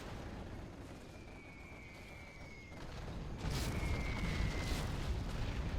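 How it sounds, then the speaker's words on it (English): Carpet bomb blasts in Generals Zero Hour, a dense run of low rumbling explosions that swells louder partway through, with faint whistling tones overhead and no talk. "Dang, that carpet bomb is just devastating."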